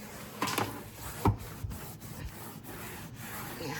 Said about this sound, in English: That is dough. I'm gonna have to scrape that off,